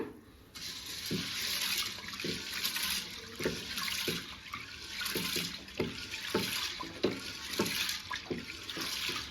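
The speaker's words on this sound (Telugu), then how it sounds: "మొదటిగా శనగబ్యాళ్ళను కుక్కర్లో వేసుకొని నీళ్ళు పోసి 2 సార్లు కడగాలి మంచిగా శుభ్రంగా" Chana dal being washed in a pressure cooker, tap water running into the pot with repeated swishing and sloshing as the lentils are rinsed, close and fairly quiet.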